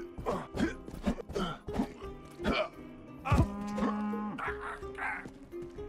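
Cattle moo repeatedly in the video game Rustler, a series of loud, close lowing calls spread across several seconds, with no talking over them.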